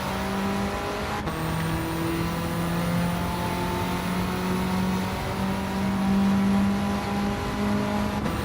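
Race car engine in Gran Turismo 7, lobby racing on track with a car suffering understeer: a steady, loud droning engine note held throughout with shifting pitch, brief gear-change dips and faint tyre noise, no talking.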